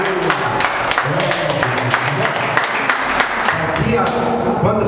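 A congregation claps during a church service, a dense, continuous patter of hands at close range with sharp individual claps standing out, and no voices on top.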